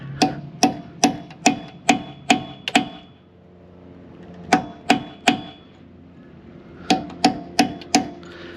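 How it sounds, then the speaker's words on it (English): Sharp metal-on-metal hammer blows drive a small punch to stake the axle nut flange into its groove on a Kia Rio CV axle, struck in quick bursts of about seven, three, then four evenly spaced close taps. "I'm just gonna use this little punch here and pound that down into that groove."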